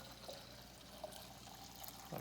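Cooled brewed tea being poured into a jar to make kombucha, a faint, soft trickle of liquid heard over low steady background noise, with no voices.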